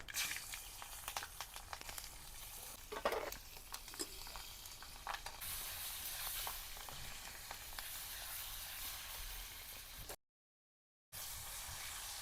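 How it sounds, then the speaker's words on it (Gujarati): Mustard seeds and cumin sizzle and crackle in hot oil during a Kathiyawadi stuffed rotlo preparation, a steady close frying hiss with scattered pops that cuts out briefly near the end, then resumes. "રાય જીરું વઘાણી આપણે મરચાં નાખશું"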